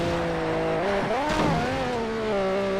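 A car drifts through corners in the racing game Need for Speed: Shift 2 Unleashed, its engine droning and revving up and down with tire squeal throughout, loud and continuous with no talking.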